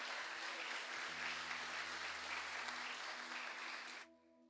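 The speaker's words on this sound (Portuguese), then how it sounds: "Você pode aplaudir a Jesus nessa noite, meu irmão?" Congregation applauding during an evangelical church service, a dense steady wash of clapping with a sustained organ or keyboard tone underneath, ending abruptly near the close as the clapping cuts off.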